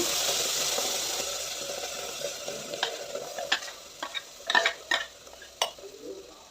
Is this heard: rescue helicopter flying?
no